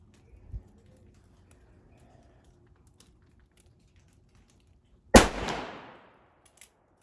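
A single loud, sharp report from an 1873 Colt revolver fired outdoors, with a ringing decay trailing off for about a second; a faint thump comes earlier and a small click follows afterward.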